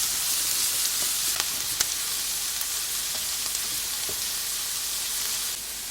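Steady, close sizzling and crackling of onion and carrot frying in a hot oiled pan, with a few soft clicks of stirring.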